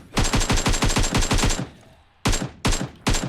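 Rapid bursts of automatic gunfire in PUBG Mobile, a dense string of loud cracks for about a second and a half, a short pause, then three more separate loud shots.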